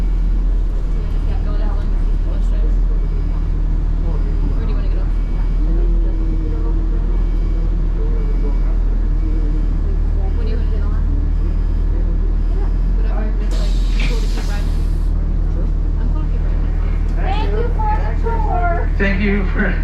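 Interior of a shuttle bus running through Yosemite, with a steady low engine drone and road rumble throughout, a brief hiss of air brakes, and people talking over the ride.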